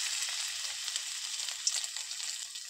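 Egg pithas frying in hot oil in a wok, a steady, fairly soft sizzle with crackling spits running throughout, no voices.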